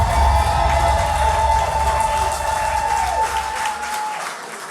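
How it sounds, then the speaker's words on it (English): Audience applause at a live hip-hop show at Bush Hall, a dense wash of clapping with some cheering that holds steady and then fades away toward the end. "Give them a round of applause."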